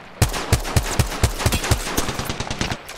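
Gunfire in Apex Legends, played as Gibraltar: a run of evenly spaced, punchy shots, loud and close, followed by a quicker, softer stutter of rounds.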